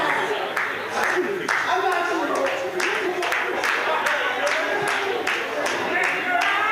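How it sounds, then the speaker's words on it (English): A wrestling crowd claps in a steady rhythmic beat and voices rise with cheers, loud and continuous over a dense background of talk and murmur. "Crowd starting to come alive."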